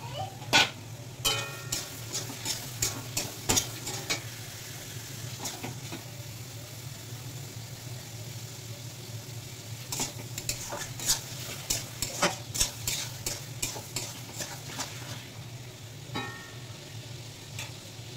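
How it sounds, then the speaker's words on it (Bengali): Chicken sizzles in spiced oil in a pan, stirred with a utensil that makes bursts of sharp scraping clicks against the pan over a steady frying hiss, close up, with no talking. "মশলা থেকে তেল ছেড়ে দিয়েছে, মশলাটা কষানো হয়ে গেছে। এবার দিয়ে দেবো চিকেনটা দিয়ে দেবো।"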